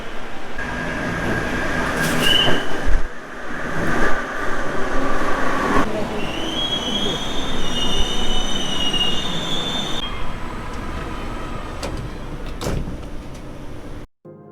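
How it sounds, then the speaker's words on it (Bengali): A Kolkata metro train pulls into the station, its rumble building with loud screeching wheel squeals and a rising electric whine, then settling as it stops, with faint voices on the platform. "আর 1 মিনিটের মধ্যে আমাদের মেট্রো চলে আসবে।"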